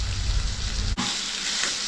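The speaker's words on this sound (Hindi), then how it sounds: "मैं इसको हाई फ्लेम में फ्राई करने वाली हूँ अभी 3 से 4 मिनट, और इसको हिलाती रहूँगी" Chicken curry masala fries over a high flame, a loud steady sizzle that breaks off for an instant near the middle and then resumes, with no voices.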